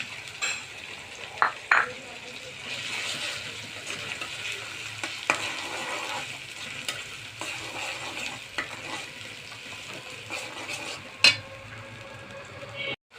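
A ground paste of greens goes into a pan of frying spices: onion, garlic, ginger and cumin. The oil sizzles steadily while a spoon stirs and clinks against the pan, with a few sharper knocks. There is no talking.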